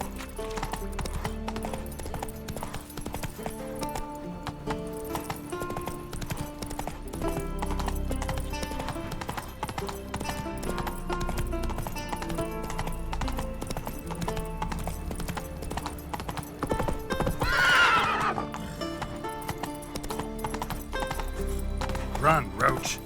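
Roach the horse gallops in The Witcher 3, its hooves clip-clopping steadily under game music and ambience, and it neighs once partway through. Voices are also heard.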